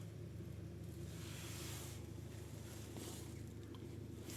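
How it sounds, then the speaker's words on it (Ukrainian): A 2015 Audi Q5 engine idles smoothly, a steady low rumble with a faint even hum and no talking. "Мотор працює рівно."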